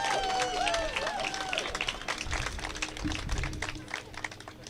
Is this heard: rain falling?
no